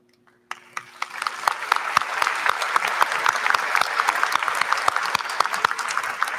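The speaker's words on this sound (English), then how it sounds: "receive a round of applause for your accomplishment" Applause at a York Technical College commencement ceremony starts abruptly from near silence with a few sharp claps, then swells into steady, full applause from a large audience.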